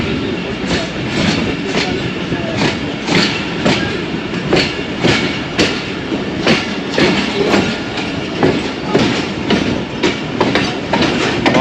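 Subk Raftar 101UP passenger train running near Gujar Khan, Pakistan, with rhythmic clickety-clack of wheels over rail joints repeating steadily and loudly throughout, over a constant rolling rumble.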